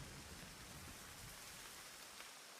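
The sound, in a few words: rain during a storm in Murder By Choice video game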